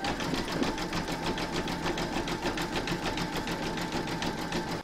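An embroidery machine zigzag stitching round 8 of a large llama applique, joining two fabric parts in the hoop: a fast, even mechanical needle rhythm running steadily and close, alone, stopping at the end.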